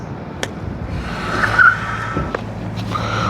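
A Hiboy Max Pro electric scooter, its brakes not yet adjusted, brakes hard from about 25 km/h outdoors, giving a brief scraping squeal over steady road and wind noise, with no talking.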